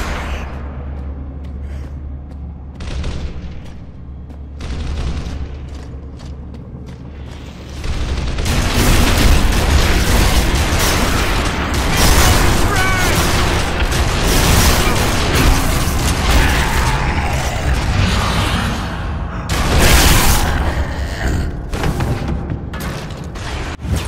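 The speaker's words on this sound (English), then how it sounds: "Incoming frag!" A frag grenade goes off in the game Gears of War, and a loud, sustained burst of explosive noise and clatter swells up after a quieter stretch and stays dense through the rest of the clip, with game voices underneath.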